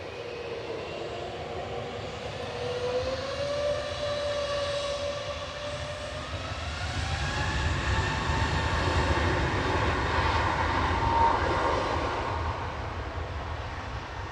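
An EasyJet Airbus A320neo at Manchester Airport gives a steady, fairly loud jet engine whine. The drawn-out tones slowly rise and shift pitch over a broad, continuous roar, with no talking.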